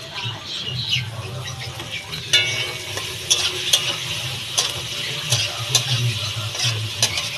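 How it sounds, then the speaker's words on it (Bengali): Onions fry in a pan with a steady, close sizzle, broken by scraping stirs and small clacks as the pieces are moved around. "পেঁয়াজটা একটু হালকা ভাজা ভাজা হবে"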